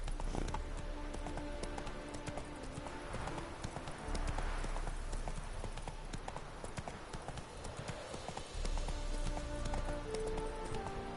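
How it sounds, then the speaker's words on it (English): Roach, a horse in The Witcher 3, gallops with steady, rapid clip-clop hoofbeats that run loud and continuous for the whole stretch, over game music with occasional brief voices. "Not so fast, Roach."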